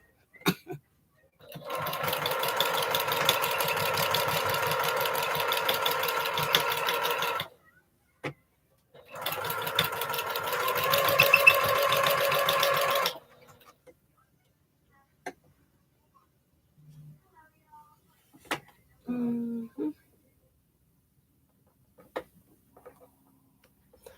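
A sewing machine stitches a quarter-inch seam allowance on quilt star blocks in two steady runs of several seconds each, separated by a short pause, followed by faint handling clicks.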